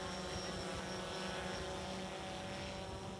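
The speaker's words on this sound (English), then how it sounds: "Robert overflies it with a drone." Steady droning engine hum with a whining tonal buzz, constant and moderately loud, from a drone flying over a fjord, no voices.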